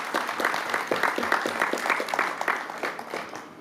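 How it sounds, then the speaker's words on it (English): Audience applause at a ribbon-cutting ceremony for a new area transit service, a steady patter of many hands clapping at moderate distance, fading slightly toward the end. "Go ahead and give him a round of applause."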